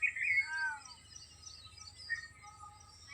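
Birds chirp outdoors in a few short, bright tweets and trills, moderately close, over a faint low background hum.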